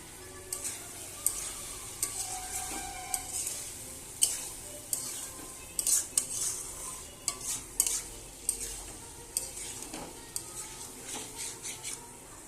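Prawns and potatoes in a masala with a splash of milk, stir-fried in a pan: soft continuous sizzling under repeated scraping and stirring strokes, near and fairly quiet, with no voices.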